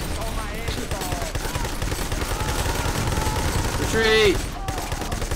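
Video game gunfire crackles in dense rapid bursts, close and loud, mixed with shouted voices and a sharp whistling tone near the end.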